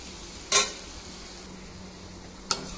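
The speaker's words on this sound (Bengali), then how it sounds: "সামান্য পোস্ত দিয়ে নেড়ে চেড়ে নিলেই আমার আলু ভাজা রেডি।" Potatoes fry with poppy seeds in a pan over a low, steady sizzle, broken by two brief scraping stirs, one strong and one lighter, with no talking.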